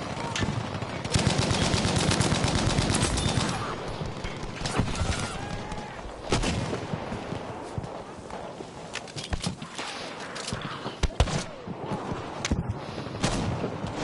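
Bren light machine gun in Battlefield V firing rapid bursts, close and loud, with rattling shots, footsteps and distant battle noise between the strings of fire.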